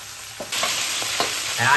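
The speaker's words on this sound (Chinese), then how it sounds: "熟了就加个鸡蛋，然后呢翻匀它们，其实好像煎蛋那样啊，翻它" An oyster omelette with egg frying in a pan, a loud continuous sizzle that swells as the mixture is flipped, with a few scraping spatula strokes and no talking.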